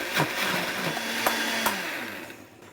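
A blender whirs loudly and steadily as it blitzes pandan leaves with plain water, a dense, close motor roar with a few brief clunks, easing off and fading in the final moment.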